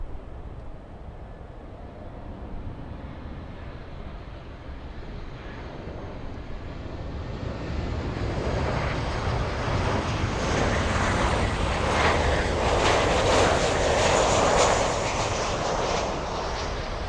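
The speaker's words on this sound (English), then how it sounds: "this is the Delta flight from JFK" A Delta airliner inbound from JFK approaches Miami International Airport, its broad jet roar swelling from a distant rumble to a louder rush over several seconds, with some wind buffeting and no voices.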